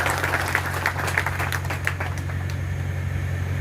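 Clapping from a large crowd at an outdoor political rally in Baniyapur, Saran, a steady continuous patter of many hands with a low hum underneath and no talking.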